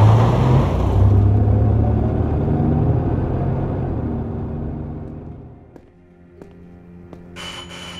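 Car accelerating during an escape, a loud engine rumble and roar that fades away over several seconds, leaving a few faint knocks and a brief bright noise at the end.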